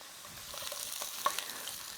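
Food frying in a hot pan, a steady bright sizzle with small crackles and pops throughout, close and fairly quiet, no voices.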